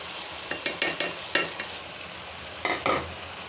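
Chicken biryani with potatoes and rice stir-fried in a pot, several distinct scraping stirs in short bursts over a soft background sizzle, close and moderately quiet.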